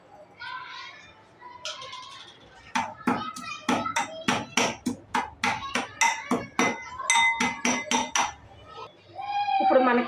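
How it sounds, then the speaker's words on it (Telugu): Garlic and cumin pounded in a mortar with a pestle, a rapid run of about twenty sharp, evenly spaced thuds, close and clear, with a voice speaking before and after the pounding. "ఇప్పుడు మనకి జీలకర్ర వేసి ఇలా దంచుకున్న తర్వాత"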